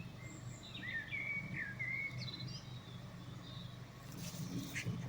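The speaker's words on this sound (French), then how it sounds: "Écoutez ces chants. Les oiseaux qui louent Dieu." Outdoors, thin whistling birdsong phrases rise and fall over a low rumble of distant traffic, faint and fairly far off, with no one speaking.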